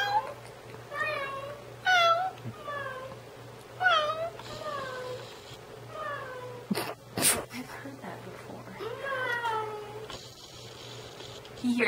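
A house cat meows repeatedly in drawn-out, wailing calls indoors, fairly faint, mixed with a person talking quietly and brief bumps.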